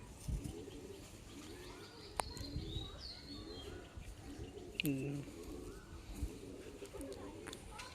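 Pigeons coo softly in the background, with a few chirps and a brief flutter, while people talk nearby.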